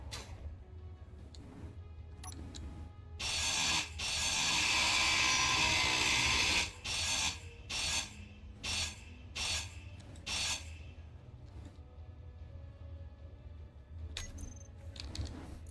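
A mining drill in the game Space Engineers, on a moon base, gives a loud grinding rasp that holds for a few seconds, then breaks into a string of shorter bursts. No one speaks.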